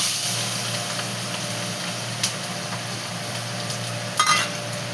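Garlic and ginger pieces sizzling in hot oil in a pan, a steady close frying hiss with a few brief sharper crackles and spatters.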